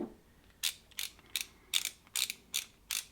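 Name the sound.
torque wrench loosening pedal bolt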